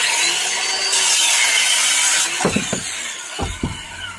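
Hand saw cutting a piece of wood to length for a shed project, first a steady rasping stroke, then several sharp, loud back-and-forth saw strokes close by.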